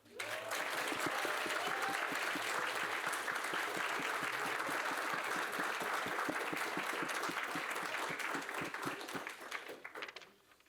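Audience at a school board meeting applauding a second-grade student from Union Ridge as she walks down the carpet, loud dense clapping that carries steadily for about ten seconds before tapering off at the end.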